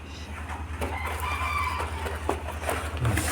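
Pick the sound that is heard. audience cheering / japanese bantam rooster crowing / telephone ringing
japanese bantam rooster crowing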